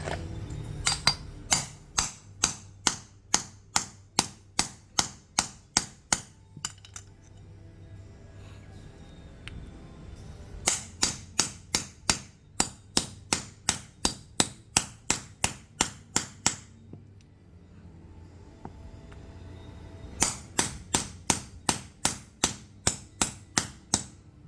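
Sharp metallic hammer blows ring out on a socket while a pulley bearing is driven out of an air-conditioner belt pulley on a Chevrolet Colorado 4JK1 engine, in three steady bursts of about a dozen strikes each with short pauses between.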